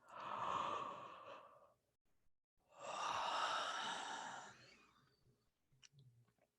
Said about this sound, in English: And now taking another deep yawn.